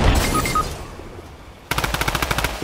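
Burst-fire gun shooting in a video game: after a quieter stretch of game sounds, a loud, rapid string of evenly spaced shots rings out close up for the last second.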